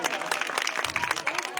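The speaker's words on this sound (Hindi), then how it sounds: "इसलिए उनको तालियां से स्वागत करें" Dense, lively applause from a crowd welcoming a guest at a village gathering in Bhind, steady clapping throughout with a brief voice low in the mix.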